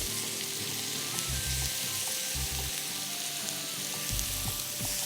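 Masala paste with green chilies and tomatoes sizzles steadily in a pan for a savory dish, with a few brief stirring scrapes over the continuous frying hiss and no talk.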